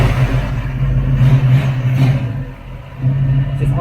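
A 1965 Ford Mustang Indianapolis 500 pace car idles with a deep, lumpy rumble, rising in a short rev and settling back, heard close with a faint mechanical clatter.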